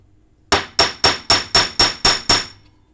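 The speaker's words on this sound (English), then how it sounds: "Okay, so you see, I now have 2 rivets in there." Eight evenly spaced, sharp metallic hammer strikes set rivets into place, each blow loud and ringing briefly before the next in a quick steady rhythm.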